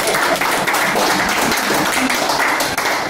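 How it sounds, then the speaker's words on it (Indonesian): A group clapping hands together in a dense, continuous burst of applause, close and fairly loud throughout. "Tepuk tangan dulu."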